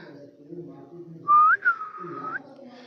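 A person whistles to call a dog in a village in Gujarat, India: one sharp rising whistle followed by a longer held note, loud and close, over a low murmur of voices.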